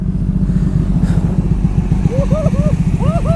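A Ducati 1199 Panigale S motorcycle engine running loud and close with a rough, throbbing pulse, while someone talks over it.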